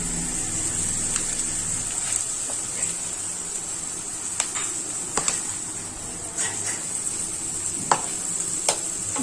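Grated mango is stirred into a sizzling tempering in a pan, giving a steady hiss of frying broken by occasional clicks and scrapes of the spoon, close-up and without speech.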